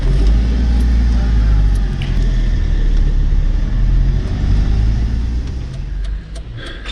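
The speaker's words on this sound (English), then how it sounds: "So we're just driving around in circles" A camper van drives through busy Istanbul streets, a loud continuous engine rumble and road noise heard from inside, with faint background voices.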